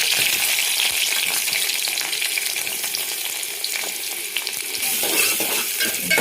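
Chopped onion and green chilies sizzle steadily in a hot pan for upma, a dense continuous frying hiss with occasional stirring scrapes, close and loud throughout.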